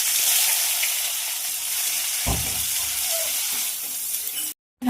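Onion and black cumin seeds fry in hot oil with a loud, continuous sizzle and crackle, a brief stirring clatter partway through, and a short break near the end.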